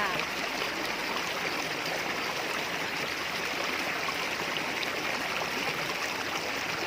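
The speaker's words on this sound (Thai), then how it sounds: "เอาเสียงสายน้ำและลำธารมาฝากแต่เพื่อนๆ เสียงน้ำตกหน่อยจ้า" A small waterfall spills into a flowing river stream, giving a steady, unbroken rush of water that stays even and close throughout, with no voices.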